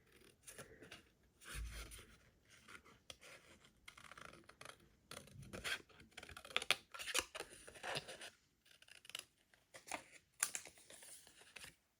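Scissors cutting paper while trimming pieces for a 12 x 12 scrapbook layout, a series of close, quiet snips and scratchy paper rustles in irregular bursts.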